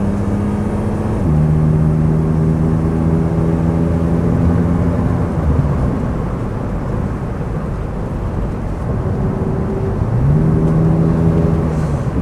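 A BMW 635CSi Highline automatic with a remapped ECU drives at part throttle, its steady engine drone stepping down in pitch at smooth gear changes.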